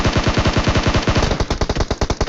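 Loud, rapid automatic gunfire rings out in a battle royale video game fight, one fast continuous burst of closely spaced shots that stays close and dominant throughout.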